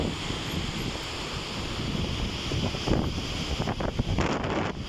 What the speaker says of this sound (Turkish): Kayseri'ye bağlı Yahyalı beldesi. E, Karpuzbaşı şelale, şelaleleri.